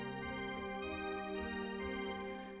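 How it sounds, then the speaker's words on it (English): A Roland JD-Xi synth plays sustained pad chords on its D50 Stack 1 voice, from the Strings and Pads bank: a steady, layered tone holding close and even, with one chord change partway through and no voices. "it's the D50 Stack 1 voice that I'm using"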